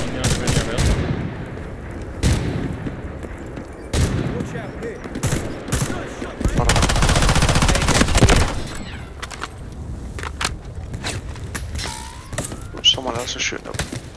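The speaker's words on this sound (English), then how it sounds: "Someone else is shooting up." Gunfire in the video game Delta Force Hawk Ops, sharp bursts and rapid automatic fire cracking at intervals with one long sustained volley in the middle, while players talk over it.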